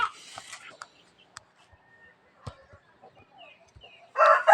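Pet chickens clucking in scattered short calls, with a rooster crowing, close by and fairly sparse, over mostly quiet background and a burst of louder noise at the end.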